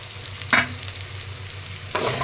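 Prawns frying with potol (pointed gourd) and potatoes in spiced masala, a steady sizzle running throughout with two brief louder scraping stirs of the pan.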